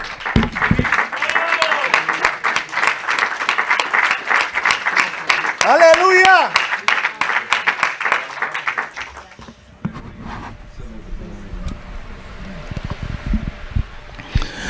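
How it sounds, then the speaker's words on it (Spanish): A church congregation claps during a Spanish-language sermon, brisk, loud applause for about nine seconds with a voice calling out over it, then the clapping stops and quieter speech and room noise follow. "Él se merece un aplauso."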